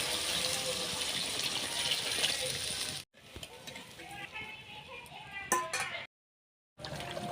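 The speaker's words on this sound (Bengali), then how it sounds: "এবার খানিকক্ষণ কষিয়ে জল দিয়ে দিচ্ছি।" Water gushes into a pan of Bengali fish curry with mati aloo after the cumin and green chilli paste has been fried, a steady close pour broken by brief pauses.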